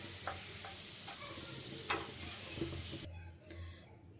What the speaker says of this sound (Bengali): পেঁয়াজ বেরেস্তাটা আমার ব্রাউন কালার করে ভাজা হয়ে গেছে